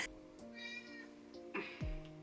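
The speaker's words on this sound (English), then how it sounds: "My cat is continuously screaming at me, so I'm going to go and open the door for him." A cat meows loudly and repeatedly at a door, several drawn-out, wavering cries close by in a quiet room.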